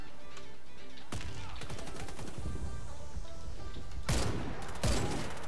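Gunfire in the online shooter Warface: a brief crack, then dense rattling bursts of rapid shots that swell loud near the end, with game ambience running underneath.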